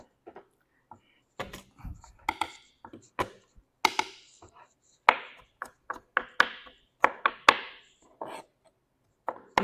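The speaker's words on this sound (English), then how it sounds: "Cut the garlic." A knife chops garlic finely on a cutting board for pupusas: sharp, irregular taps that start sparse and quicken into a steady run of close, crisp strikes with brief pauses between bursts.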